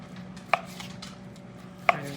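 Two sharp knife strikes through cooked flank steak land on a cutting board about a second and a half apart, close and distinct over a quiet background with no one talking.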